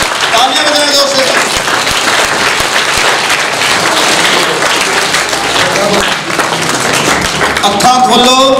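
Audience applause for performer Sagar Prince at a live school stage programme, steady dense clapping from a large crowd throughout, with a voice rising over it near the start and again at the end.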